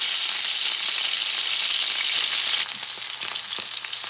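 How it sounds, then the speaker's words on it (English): A petite sirloin steak sizzling in a hot pan, giving a loud, even hiss with scattered small pops, continuous and close with no talking. "I'm going to cook one side for about a minute, maybe a minute and a half."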